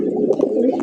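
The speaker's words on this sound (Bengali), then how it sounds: "দেখতেই পাচ্ছেন মাশাআল্লাহ গ্রেবার লাহোরি কবুতর একদম বিগ সাইজের" Big grey Lahori pigeons cooing close by in a steady, soft, low murmur that runs through the short moment without a break.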